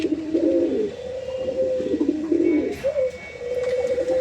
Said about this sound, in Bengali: পাশের কবুতরের দিকে ডাকতেছে